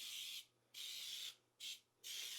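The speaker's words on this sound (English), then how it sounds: "I'm going to use the baking spray that has both those things in it." Baking spray from an aerosol can coats a bundt pan for a pumpkin chocolate chip cake, heard as three close hissing bursts with short pauses between them in a quiet kitchen.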